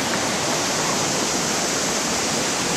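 Water gushes steadily through a partly opened sluice gate that splits the flow, a dense, continuous roar of rushing water close by, with no voices.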